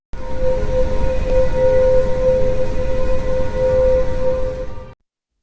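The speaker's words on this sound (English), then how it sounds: "This is Pluto's business." Sonified space recording presented as Pluto, an eerie droning hum with a sustained siren-like tone over low rumbling noise, steady and loud until it stops suddenly.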